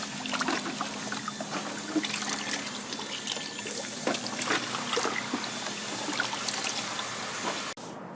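Running water trickles and splashes steadily while freshly stained wooden chess pieces are rinsed off, a continuous close wash with small irregular drips and no voices.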